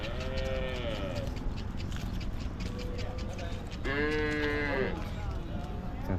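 Tall draught bullocks at a cattle market in Vaniyambadi give two long, loud moos, one early and one later, over a constant din of crowd chatter and market noise.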